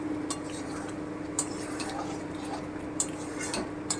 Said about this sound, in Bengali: এবার শুধু আজ কমিয়ে কমিয়ে কষিয়ে নিতে হবে